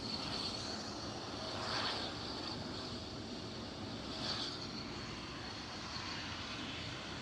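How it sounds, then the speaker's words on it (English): A KLM City Hopper Embraer E190 jet approaching Amsterdam Schiphol makes a steady, moderately loud engine roar with a faint high whine that swells slightly and holds throughout. "KLM City Hopper E190 approaching me from behind."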